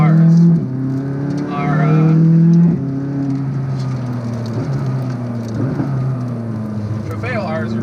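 A McLaren 600LT sports car on canyon roads revs and accelerates loudly in surging bursts, the engine note rising and shifting, while someone talks over it.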